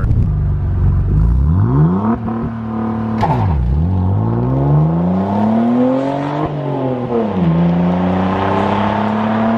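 A Saab 9-3 Turbo X roars through a launch-control start, the engine revving hard with rising and falling pitch through gear changes and a brief tire spin, loud and close throughout.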